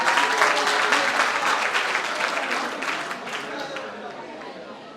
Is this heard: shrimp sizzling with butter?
no